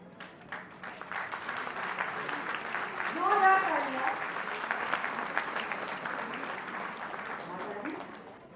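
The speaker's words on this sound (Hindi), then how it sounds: "तालियों की कमी नहीं होनी चाहिए। जोरदार तालियां" Audience clapping at a women's training session as guests are honoured with mementos; steady, dense applause runs throughout, swelling slightly in the middle, with a voice briefly rising over it.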